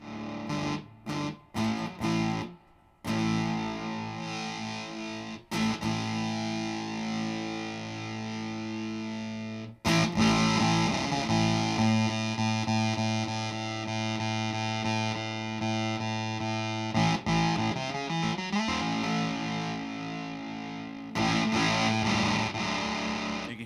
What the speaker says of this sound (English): An octave fuzz will have this kind of crumbly sound when you play chord tones.